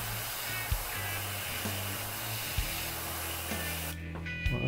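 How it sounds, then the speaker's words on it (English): A can of white spray paint hisses in long, steady bursts close by while painting a miniature vehicle, broken by a few soft clicks and pauses, with no voices. "So I'll spray the white towards the bottom."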